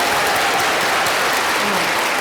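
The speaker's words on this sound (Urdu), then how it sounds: "ہاں تالیاں" Audience applause at a Bait Bazi poetry recitation competition, steady dense clapping filling the room throughout, close and loud with no break.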